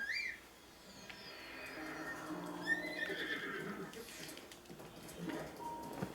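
A horse whinnies loudly in the video game The Legend of Zelda: Breath of the Wild, followed by steady clip-clop of hooves and a second shorter neigh, with faint ambient noise behind.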